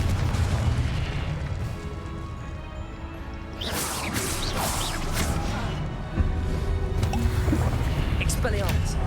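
A Confringo blast from the Hogwarts Legacy video game bursts out in a dense flurry of combat effects, with sharp booming hits landing mid-clip and again later over steady background noise, and voices are heard through it.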